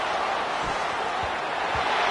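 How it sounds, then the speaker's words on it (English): A college football stadium crowd roaring on a third down at a Texas Tech home game, a dense, steady wall of noise with a few dull thumps underneath. "The crowd electric, trying to help Tech on this third down."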